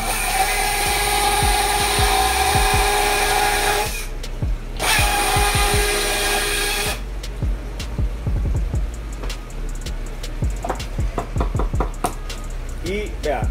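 A power tool cutting through a wooden log, a loud steady motor whine and cutting noise that runs almost throughout, breaking off briefly, then mixed with sharp knocks and clatter toward the end.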